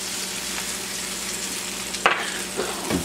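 Leeks fry in browning butter for braised leeks, giving a steady close sizzle with a sharp utensil clatter partway through and a couple of softer knocks after.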